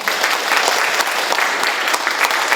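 Loud, dense applause from a Korean lecture audience at a youth event, steady clapping from a full crowd throughout with no break.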